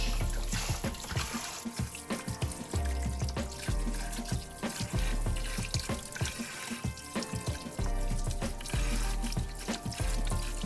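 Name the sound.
rinsing and washing food under running water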